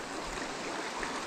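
A small stream flows beside a forest trail, with a steady broadband rush and gurgle of running water holding at an even, moderate level throughout, and no one speaking.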